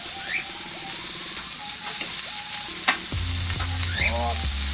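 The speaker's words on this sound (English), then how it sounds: "Listen to that sizzle." Steady, loud sizzling of burger patties frying on a hot barbecue grill fills the whole stretch, crackling and hissing continuously.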